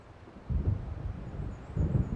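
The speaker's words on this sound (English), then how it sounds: "It seems there's a storm coming." Thunder from an approaching storm in the Alan Wake video game rumbles low and distant in two rolling swells, under a steady wash of wind.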